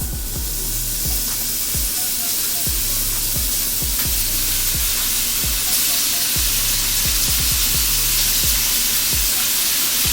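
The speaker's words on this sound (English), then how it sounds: "we'll go ahead and put the beef tips into brown" Beef tips browning in hot oil in a pan give a steady, even sizzle and spitting fry throughout, with faint utensil clicks underneath and no speech.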